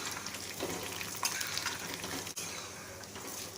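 Tempering spices fry in hot oil in a pan on a high stove for potato upma curry, giving a steady, soft sizzle with a few light stirring scrapes and one sharp knock, fairly quiet and without talk.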